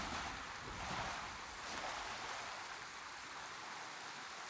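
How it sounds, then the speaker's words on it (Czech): Strong river current rushing in the Ghost of Tsushima video game, a steady, loud broadband wash of water that holds evenly throughout with no voices. "Sakra, tady je silnej proud."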